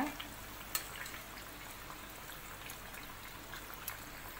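Potato-stuffed bread bajji fries in hot oil with a soft, steady sizzle. Faint crackles and occasional small pops sound quietly throughout.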